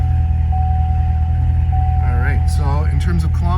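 Idle of a 2019 Corvette Z06 3LZ with a seven-speed manual, a steady, loud, deep rumble that runs throughout while someone talks over it.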